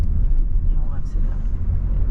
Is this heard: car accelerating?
yes